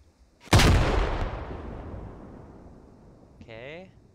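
One loud, booming gunshot in the tactical shooter game SquadOps cracks out near the start and rolls away in a long, fading echo, with a short burst of voice near the end.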